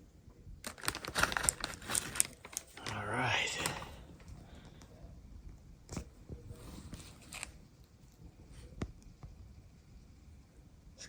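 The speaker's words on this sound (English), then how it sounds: "In another plastic bag, so let's get that cut open." Plastic packaging around an Off-Grid Knives Ridgeback knife is cut and pulled open: crinkling and rustling, with a burst of tearing plastic, then sparse handling clicks, close by and fairly quiet.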